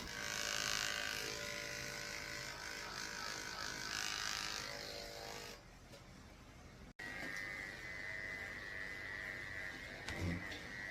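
Electric dog clippers fitted with a 30 blade trimming a poodle's face, a steady close buzzing drone that drops off briefly then resumes, with no talk.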